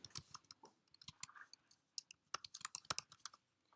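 Fast, uneven typing on a computer keyboard, heard up close as a quiet run of crisp key clicks in short bursts, with no talking.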